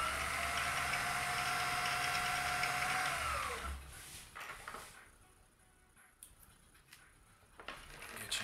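Vintage Kenmore 158.1040 sewing machine winding a bobbin, a loud steady motor whir for about three seconds that winds down and stops, followed by faint clicks and handling noises.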